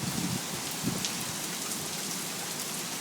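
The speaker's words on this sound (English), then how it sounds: "It's totally pouring." Heavy warm Florida rain pouring down outdoors near an open door, a dense, steady roar of drops hitting surfaces that stays loud and unbroken throughout.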